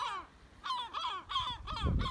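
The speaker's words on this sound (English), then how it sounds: "There's just a little bit too much yorping for this timing in the day." Seagulls calling loudly in the morning, a few harsh, repeated squawks close by with short gaps between, then a rumble of background noise at the end.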